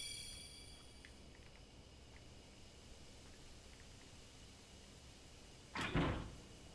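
A locked cottage door is tried in a horror video game, giving one brief muffled rattle-thud against a steady faint hiss.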